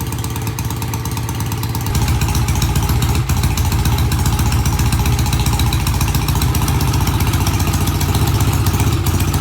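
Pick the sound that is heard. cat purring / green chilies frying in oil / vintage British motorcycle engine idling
vintage British motorcycle engine idling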